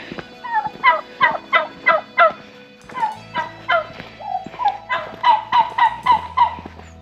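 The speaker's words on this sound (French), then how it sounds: "Les canards, les dindons, il y a tout." Rapid, rolling gobbles from turkeys in the French countryside of Ariège, loud and close, repeating in overlapping bursts over a low background rumble.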